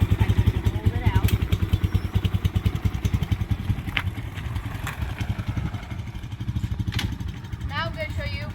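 A Vitacci Pentora 250 UT engine idles after warm-up with a steady, rapid low putter and clattering pulses, a few brief thumps, and a person talking faintly underneath.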